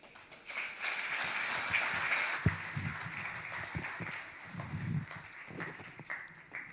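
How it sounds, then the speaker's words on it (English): Faint, steady applause from a forum audience for a speaker runs throughout at a distance, a soft wash of clapping with a few louder thuds close by. "A round of applause for Gibran once again"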